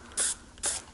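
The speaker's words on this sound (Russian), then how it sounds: "Только что-то неудобно, что распыление такое непонятное." A spray mop releases two short, sharp hissing bursts of cleaning liquid, close and clearly separated, with a faint mechanical click around each spray.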